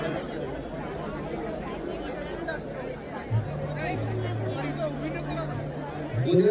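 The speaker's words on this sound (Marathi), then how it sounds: "खूप जास्त गर्दी आहे इथं" Dense, steady chatter from a large crowd gathered for a live concert at a cultural festival, a continuous babble of many voices with a faint background tone.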